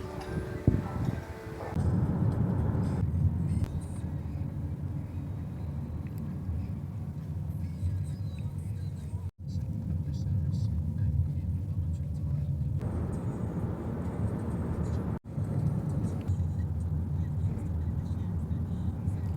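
Continuous low rumble of a taxi's car engine and road noise from inside the moving vehicle on the way to Tetbury in the Cotswolds, steady throughout with two brief cuts, with faint voices underneath.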